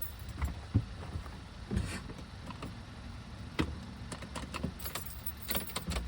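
Keys jangle and clink as a key is pushed into the ignition of a junkyard Pontiac G8 car, several sharp metallic taps and rattles over a quiet low background.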